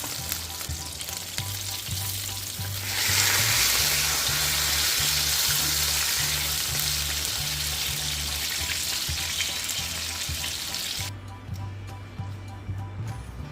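Veal cutlets fry in hot oil with a steady, loud sizzle that swells after a few seconds and holds, then eases near the end, over a low hum.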